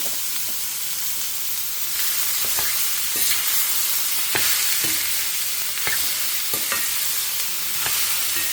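Asafoetida and spices tempering in hot oil in a pan, a steady close sizzle with intermittent stirring clicks from a utensil, sounding alone without talk.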